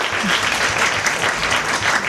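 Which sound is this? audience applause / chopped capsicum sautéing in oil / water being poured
audience applause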